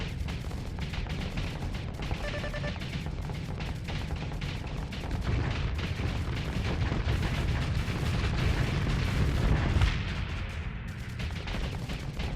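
Spaceship weapons fire in the StarSector space game, destroying ships: dense, continuous barrages of sharp gunfire-like cracks and booming explosions, heavy and loud throughout with no pauses.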